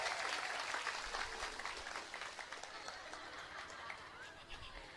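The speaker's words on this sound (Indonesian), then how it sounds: "Tepuk tangan dulu dong buat Banser." Audience applause at an Indonesian religious lecture fills the space as steady, busy clapping with crowd noise, fading slightly as it continues.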